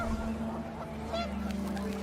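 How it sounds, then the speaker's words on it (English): Panicked geese honk in a short burst in the video game What Remains of Edith Finch, a few quick calls over a windy, humming background. "The wind picked up, and panicked geese appeared and quickly went."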